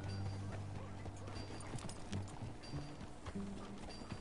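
Horse hooves clip-clop at a steady trot in Red Dead Redemption 2, a rhythmic run of hoofbeats close by with a faint low rumble beneath and no talking.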